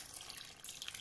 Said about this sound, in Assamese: অলপ পানী দি দিম